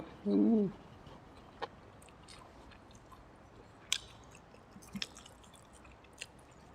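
Fried clown knifefish cakes eaten with steamed rice, chewed close and quiet, with a short muffled burst at the start followed by sparse soft crunches and clicks.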